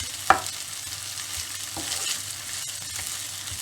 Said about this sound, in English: Trying to separate all the onion slices. Allow the onion to cook a bit.